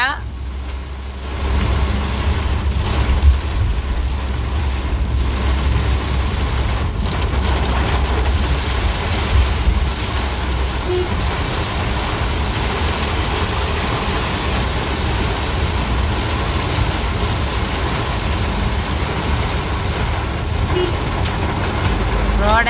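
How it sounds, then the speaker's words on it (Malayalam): Steady, dense summer rainfall pours down continuously, a broad hiss with a low rumble beneath, unbroken from start to finish. "അപ്രതീക്ഷിതമായിട്ട് കിട്ടിയ ഭാഗ്യമാണ് ഇങ്ങനൊരു മഴ"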